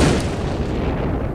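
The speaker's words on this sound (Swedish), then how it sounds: "Efter en stund så smäller ett skott av" A gunshot sound effect in a Swedish audiobook thriller: one dense, booming blast with a heavy low rumble that fills the whole moment, loud and close with no talking over it.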